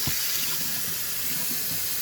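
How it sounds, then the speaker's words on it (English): Tap water runs steadily into a bowl as clay is rinsed out of it, a continuous rushing splash with faint shifting, close and moderately quiet. "So dump and rinse your water bowl."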